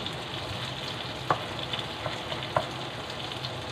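Eggplant omelette (tortang talong) frying in a pan with cooked tomato and onion, giving a steady close sizzle broken by two light utensil clinks.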